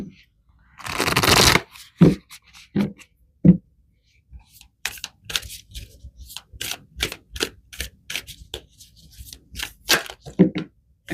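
Tarot cards are shuffled by hand: a long riffle burst, then a run of quick soft snaps and slaps at an irregular rhythm, close up.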